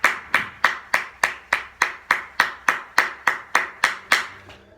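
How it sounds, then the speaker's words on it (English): Hands clap steadily in an even rhythm, about fourteen sharp, evenly spaced claps, close and alone. "If I'm playing, let's say I'm just clapping my hands,"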